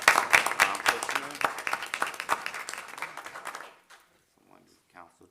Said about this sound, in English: want to give a round of applause for that